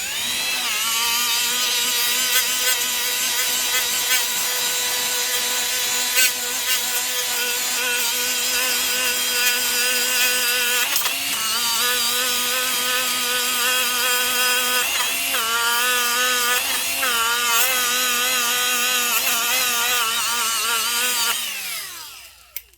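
A Milwaukee die grinder fitted with a sanding pad runs continuously at high speed, a loud steady whine with strong harmonics that wavers slightly under load before spinning down at the end.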